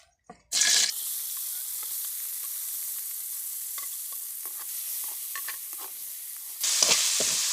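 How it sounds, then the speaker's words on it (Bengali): Onion, chili, garlic, turmeric and a little ginger paste frying together for rohu fish with onion stalks, a loud continuous close sizzle with occasional stirring scrapes, flaring louder at the start and end. "এই মশলাগুলোকে আমি একসাথে এখানে ভেজে নেবো"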